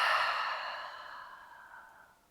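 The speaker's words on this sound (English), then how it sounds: "Inhale through the nose and exhale through the mouth." A single long exhale through the mouth during a breathing exercise, close and soft, starting strongest and gradually fading out over about two seconds.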